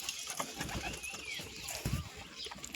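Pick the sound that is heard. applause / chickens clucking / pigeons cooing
pigeons cooing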